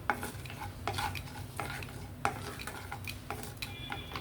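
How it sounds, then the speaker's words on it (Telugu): Mustard seeds and cumin crackle in hot oil for a Telugu-style tempering, with light stirring, clinks of a spoon against the pan and scattered popping throughout, close and moderate in level with no talk. "ఆవాలు జీలకర్ర పోపు వేసాను."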